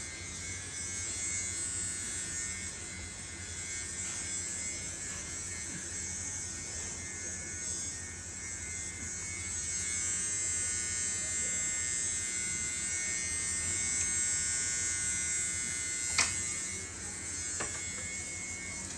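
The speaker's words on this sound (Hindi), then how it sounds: "ये आई तो सस्ती थी ये लिंट क्लीनर की मशीन" A small electric lint cleaner machine hums steadily as it runs over clothes, a continuous close buzzing with slight shifts in pitch and one brief click near the end, with no voice over it.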